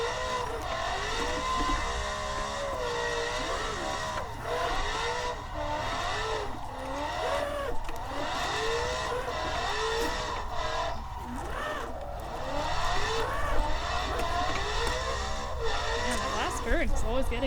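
Race car engine droning steadily through a racing video game session, with revs rising and falling and occasional tire noise, running continuously under two people chatting.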